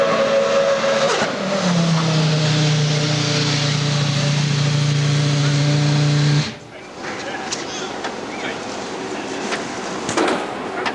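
A Renault race car pulls away loudly with a steady high engine drone and a strong low tone for several seconds, then the sound drops off sharply to a quieter background with voices.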